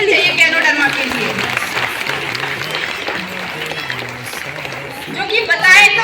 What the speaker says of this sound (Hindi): एक जोरदार ताली होनी चाहिए गैनोडर्मा के लिए।